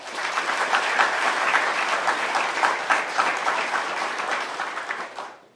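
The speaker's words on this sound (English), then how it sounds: "So please give a round of applause to those." Audience at an NCO induction ceremony breaks into a round of applause, loud and full, many hands clapping steadily before the noise tapers off at the very end.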